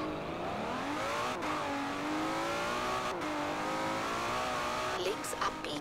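An Aston Martin Vantage race car in Forza Horizon 4 accelerates steadily, its engine note climbing through the gears with brief dips at the shifts and the revs rising continuously.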